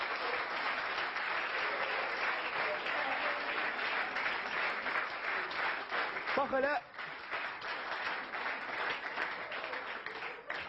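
Sustained audience applause filling a hall, a dense steady roar of many clapping hands lasting about ten seconds, briefly dipping as a voice speaks over it.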